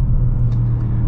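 A 2020 Audi RS6 Avant easing off while driving, its engine a steady, close, loud low drone with road rumble, holding an even pitch and level throughout without any talk.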